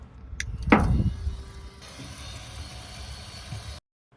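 A power saw's blade whirs up quickly to speed with a rising whine, then runs steadily at a constant hum for a few seconds before cutting off, a water pump for dust control running in the tank.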